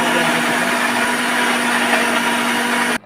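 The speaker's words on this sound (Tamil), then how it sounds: "இதை ஆற வச்சு மிக்சி ஜாரில் போய் அரைச்சிட்டு வந்துக்கலாம்" A kitchen mixer grinder whirs loudly and steadily for a few seconds at close range, grinding a paste for dosa batter, then cuts off abruptly.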